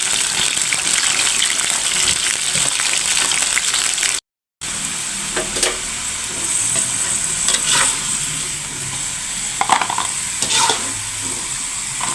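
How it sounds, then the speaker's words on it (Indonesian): Jengkol frying in hot oil in a pan, a steady loud sizzle with stirring and scraping running throughout, briefly cut off once, with no talking. "Yang pertama kita goreng dulu jengkol."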